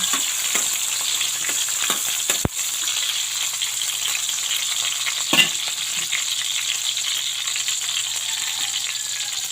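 Garlic and onion sautéing in hot oil in a home kitchen pan for sotanghon noodles, a steady bright sizzle throughout with two sharp clicks of a utensil against the pan.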